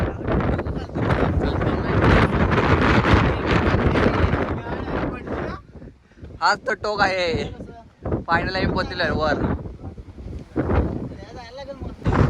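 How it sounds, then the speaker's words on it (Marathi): Strong wind buffets the microphone on a hilltop summit in the Sahyadri hills near Tungareshwar, roaring loudly for the first several seconds, then gusting on and off beneath people talking. "खतरनाक वारा आहे वरती"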